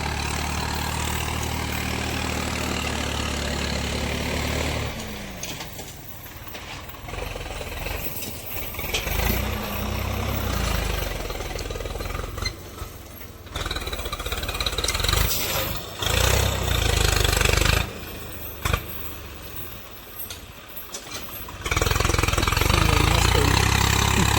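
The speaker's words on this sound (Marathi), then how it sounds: "हे बघा येतं ट्रॅक्टर आहे चालू" A Swaraj 855 tractor engine idles close by, a low, steady diesel chugging with a knocking rhythm that swells and dips in level across the stretch, with no voices over it.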